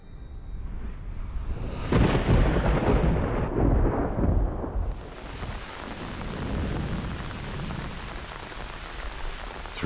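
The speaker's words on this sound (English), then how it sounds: "Throughout June, the monsoon has brought constant rain, and the forest is refreshed and thriving" Monsoon rain falls steadily in a forest while thunder rolls in, building to a loud, prolonged rumble before fading back into the constant hiss of the downpour.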